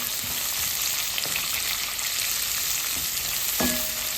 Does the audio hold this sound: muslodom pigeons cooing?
no